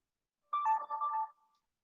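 A mobile phone ringtone sounds as one short melodic trill of bright tones, clear and close, standing alone against silence before cutting off.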